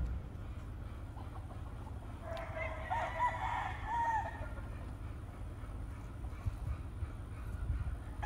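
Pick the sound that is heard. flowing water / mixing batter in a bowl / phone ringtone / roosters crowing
roosters crowing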